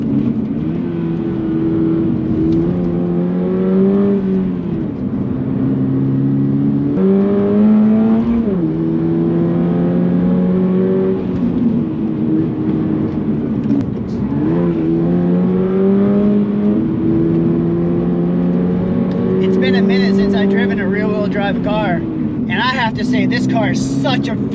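A 2022 Subaru BRZ drives a mountain road, its engine note loud and close, rising and falling in pitch through repeated revs and gear changes, with a voice talking over it near the end.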